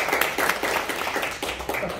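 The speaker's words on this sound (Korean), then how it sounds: "우리 박수 한번 다시 한번 치겠습니다" An audience claps together in a lecture hall during an industrial management consulting class, giving a steady, dense patter of hands that runs throughout.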